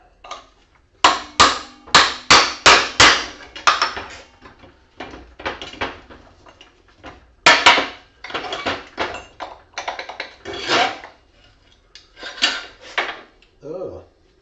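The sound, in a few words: hammer and chisel on a Karcher pressure washer motor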